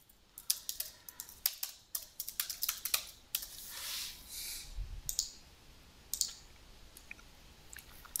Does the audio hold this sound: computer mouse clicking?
yes